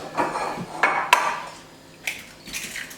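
Eggs cracked against a bowl for gingerbread Lebkuchen dough, giving three or four sharp taps and knocks spaced about half a second apart, close and fairly loud, with light clinks afterward and no talking.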